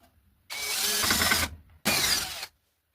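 A power drill boring holes into a wall to mount a fuse box during a solo build, two loud sustained bursts close by, about a second and under a second long, with a short pause between.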